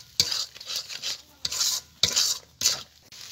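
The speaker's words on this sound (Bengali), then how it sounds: "এবার মশলাগুলোকে আমি ভালো করে কষিয়ে নেব।" Ground coriander, cumin and dried chili powder are stirred and sautéed in a pan with a spoon, giving repeated scraping strokes and soft sizzling at close range.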